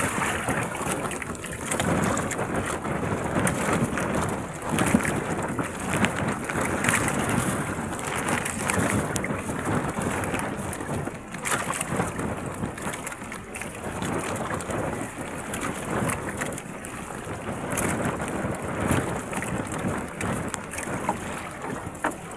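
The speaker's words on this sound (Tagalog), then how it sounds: "Lakas ng hangin no." Strong wind roars steadily into the microphone, a dense continuous rush that swells and eases slightly without pause.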